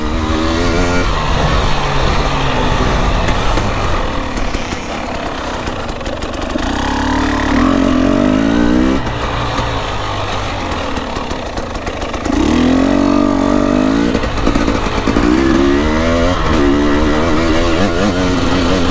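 A 300 enduro motorcycle rides a bumpy trail during an enduro event, its engine loud and close throughout, with the revs repeatedly rising and falling as the bike works through the rough ground.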